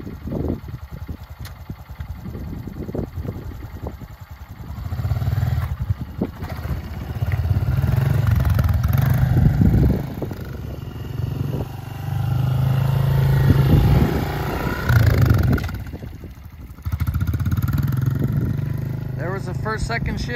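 A 2021 Honda CRF125FB dirt bike engine revs and bogs in repeated surges as a young rider works the clutch and shifts from first to second, with a steady low drone throughout and someone talking over it.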